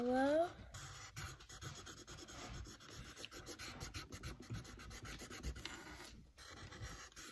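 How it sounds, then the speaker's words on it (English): A marker or crayon scratching and rubbing steadily across paper while coloring a corgi drawing in yellow, a close, faint, continuous scraping texture with brief pauses and a short whistle-like tone at the start. "You're going to color it all in yellow."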